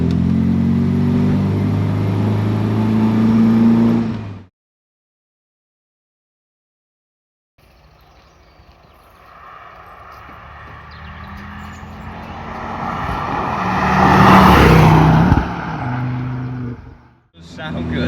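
An MGB Roadster's engine hums and rumbles while driving on Lake District roads, cuts out to silence for a few seconds, then returns and builds steadily into a loud revving acceleration before easing off.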